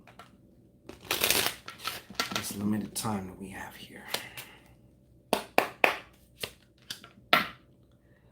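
Angel cards shuffled by hand during a card reading, a run of sharp riffling bursts at the start and a string of quick snaps later, with a voice speaking quietly between them.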